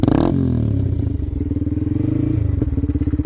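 A Yamaha MT-15 motorcycle engine idles close by with a steady, throbbing low pulse, a sharp rev at the start and another brief blip near the end, with no talk over it.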